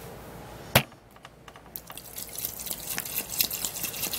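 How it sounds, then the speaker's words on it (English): Water for a tea is poured into a cooking pot, opening with a sharp knock, then a splashing, trickling stream that grows gradually louder, close by and without speech. "now I'm going to be putting in water"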